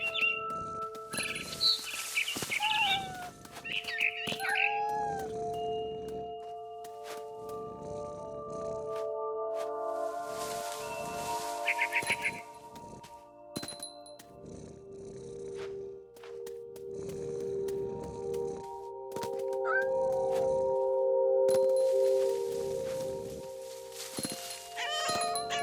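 Cat meowing and mewing in the game What Remains of Edith Finch, several drawn-out calls mixed with bird chirps over a tonal ambient bed and scattered footsteps-like thumps.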